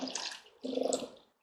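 Water is poured into a pan holding chicken drumsticks in two short splashing bursts with a brief pause between them, close and fairly quiet.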